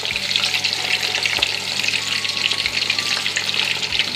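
Yam pieces fry in hot oil for a turkey, yam and plantain dinner, giving a steady, close, crackling sizzle with faint stirring clatter.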